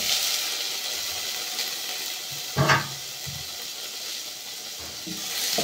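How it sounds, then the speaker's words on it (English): Chopped tomato added to frying onion for a coconut rice and potato stew, a steady close sizzle in the pan with one brief louder splash and clatter as it goes in. "Now we can add our tomato."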